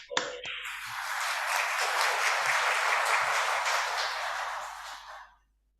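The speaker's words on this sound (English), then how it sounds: "a round of applause for him" Audience applause after a speaker at a strategic and security dialogue on the rise of China: a dense, steady wash of many hands clapping, fairly loud, holding for about five seconds before fading out.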